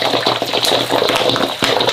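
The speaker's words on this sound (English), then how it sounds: "Chicken feet are fried in a pot under dry moisture control." Chicken feet fry in a pot with moisture cooking off, a loud continuous sizzle and bubbling crackle with a few sharper pops breaking through.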